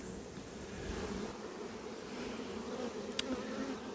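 A dense, steady drone of honey bees buzzing close at a hive frame, busy workers crowding the comb, with a brief sharp tick near the end.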